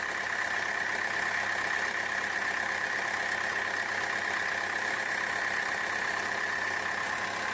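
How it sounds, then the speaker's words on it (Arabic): A car engine idles in a steady, unbroken drone, close and constant, from a car that is losing radiator coolant. "هذه الدورة تاع المحرك"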